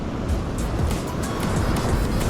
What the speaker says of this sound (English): Waves are a bit rough.